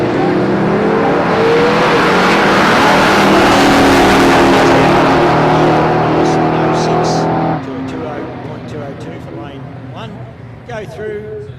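A Ford XY Fairmont with a 383 cubic inch motor races in a street-car drag event, its engine a loud, sustained roar that suddenly drops to a lower, fading rumble partway through.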